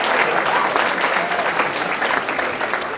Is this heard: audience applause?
yes